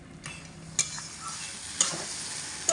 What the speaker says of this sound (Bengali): এইভাবে লো টু মিডিয়াম আঁচে রেখে দু মিনিট মতো আমি অনবরত নাড়াচাড়া করে কষিয়ে নেব ভালো করে